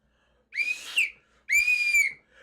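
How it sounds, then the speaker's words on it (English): A whistle sounds during football drills: two shrill, close blasts, the first about three-quarters of a second and the second about a second long, separated by a short gap, with no talk. "Oh I got my whistle? Do I have to whistle?"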